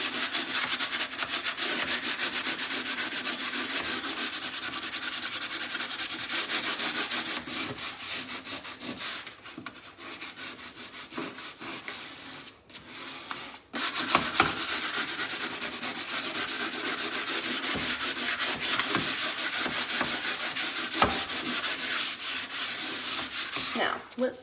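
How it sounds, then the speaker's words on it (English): Folded sandpaper rubs gently over a floral transfer on an antique cabinet in a steady, close scratchy hiss of quick back-and-forth strokes, briefly pausing midway. "So you can use sandpaper."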